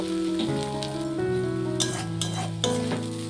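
Vegetable bhaji of radish, potato and gourd peel with prawns fries in a pan, a continuous close sizzle with brief scraping stirs, set against a steady background tone. No one talks.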